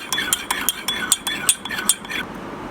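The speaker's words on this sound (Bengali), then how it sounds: "তারপরে দিয়ে দিচ্ছি ডিমের 2টো কুসুম, ভালো করে ফেটে নেবেন।" Two egg yolks whisked into warm milk in a cup for fruit custard, a quick regular clinking rhythm of utensil against the cup's side, close and alone.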